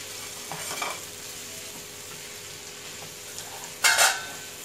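Tomatoes with spices stirred and frying in a pan, a soft continuous sizzle with faint scraping stirs and a louder burst of sizzling and clatter near the end.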